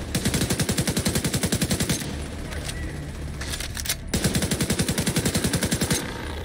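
Rapid automatic gunfire from The Division 2, set in the Black Tusk-invaded Potomac Event Center, rattles in two long sustained bursts, loud and close, with a quieter gap between them.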